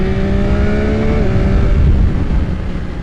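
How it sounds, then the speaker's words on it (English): A 2021 Yamaha MT-09 engine revs loudly up close through its stock exhaust, its pitch climbing and then dropping as the throttle eases off, with a deep rumbling exhaust tone. "It's a really good sound for stock exhaust."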